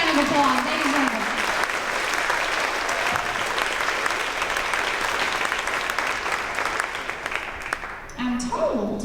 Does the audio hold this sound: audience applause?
yes